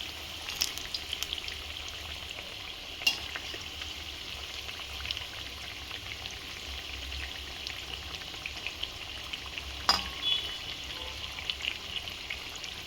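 Masala vada made with dill leaves (sabsige soppu) fry in hot oil on a medium flame, a continuous close crackling sizzle with a few sharp clicks of stirring.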